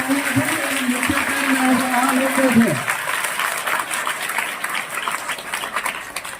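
A school audience at a primary school Independence Day celebration bursts into dense, sustained clapping that fills the space after a voice, nearby and loud.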